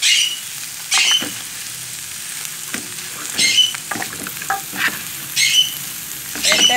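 Chow mein stirred in a frying pan, a close sizzle with repeated scraping, squeaky strokes and bursts of crackle coming in uneven waves.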